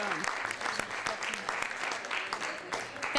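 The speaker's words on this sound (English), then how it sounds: "I would like to end this on a big round of applause, with a big round of applause for everyone who showed up" Applause rises from the audience at the close of a public forum event in a hall, continuous, moderately distant, mixed with scattered cheers and crowd noise.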